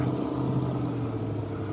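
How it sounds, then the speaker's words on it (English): A car carrying marshals drives past nearby, a steady low engine rumble with a faint rising rev that holds even across the moment, with no voices over it. "There's the marshals that went by, one on a motorcycle,"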